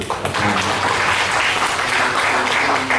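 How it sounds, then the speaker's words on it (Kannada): A crowd applauds at a film event honouring singers and dancers, a dense, loud and continuous wash of clapping that holds steady for the full few seconds. "ಅವ್ರಿಗೆ ಚಪ್ಪಾಳೆ ತಟ್ಟಿದ್ದೀವಿ"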